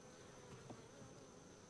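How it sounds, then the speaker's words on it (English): Honeybees hum steadily around an open beehive during a mid-June hive inspection at Cypress Creek, a faint, continuous, even buzz with no voices. "It's just a big bee."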